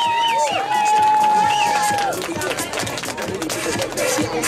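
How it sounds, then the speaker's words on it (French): A crowd at the Farnham Zukini 500 zucchini race cheers and applauds continuously for wave number 7. A loud whistle-like tone rises over the noise at the start. "peut-être une main d'applaudissement pour la vague numéro 7"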